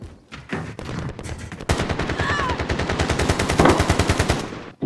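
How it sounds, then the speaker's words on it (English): Rapid automatic gunfire in a video game, a long fast burst of evenly spaced shots after a few scattered single shots, loud and close. "He was shooting way too fast."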